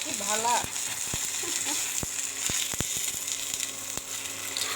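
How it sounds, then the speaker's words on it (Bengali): An egg fries in a pan with a continuous bright sizzle, sharp ticks and pops scattered through it and a brief voice near the start. "তো এই তো ডিম পোচ করে দিলাম।"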